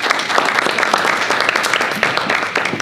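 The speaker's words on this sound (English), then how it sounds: "So give her a round of applause." An audience at a Citizens Academy talk applauds, giving a loud, steady burst of dense clapping that runs throughout.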